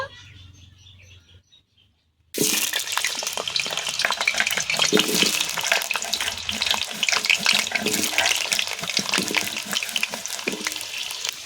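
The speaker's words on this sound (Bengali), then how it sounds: "আলুগুলো ভেজে নেব।" Potatoes dropped into hot mustard oil in a kadai in a village kitchen burst into a loud, sustained sizzle that starts abruptly after a quiet moment and keeps crackling steadily, close by.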